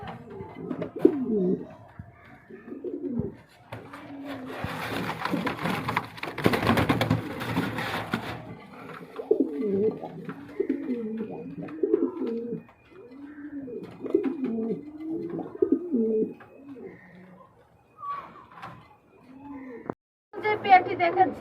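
Pigeons at a pigeon seller's, including a red Sirazi breeding pair, cooing repeatedly in soft rhythmic bursts nearby, with a brief rustle of wing flapping midway and a sharper chirp near the end.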